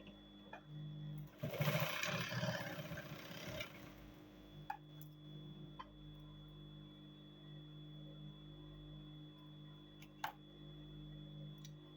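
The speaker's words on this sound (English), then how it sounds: "so I'll fold it in and top stitch" A sewing machine top-stitches a seam on cargo pants in one close, buzzing run of about two seconds, then falls silent except for a low room hum and a few faint clicks.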